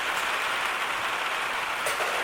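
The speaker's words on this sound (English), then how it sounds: "And here comes the rainstorm." A rainstorm at an outdoor shooting range, steady dense hiss of heavy rain falling on surfaces, loud and continuous with no talk.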